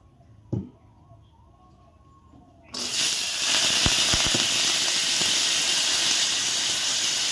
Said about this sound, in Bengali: এখন আমি কড়াইতে তেল দিয়ে মূলগুলো ভেজে নিচ্ছি।